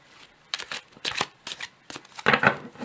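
Tarot cards shuffled by hand in several quick riffling bursts, close and crisp, the last flurry the loudest, with brief pauses between.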